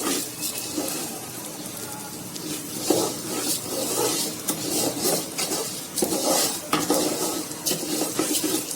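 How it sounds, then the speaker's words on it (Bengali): Uncooked rice being dry-fried and stirred in a pot for biryani, with a steady scraping and rasping of a utensil against the metal and clinks throughout, fairly close, with no talking. "আমি চালটাকে দিয়ে দিলাম, এখন এটাকে একটু ভেজে নিব।"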